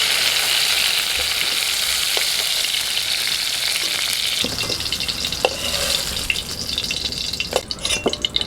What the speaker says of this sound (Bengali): পটলগুলো এরকম হালকা করে ভেজে তুলে নিচ্ছি।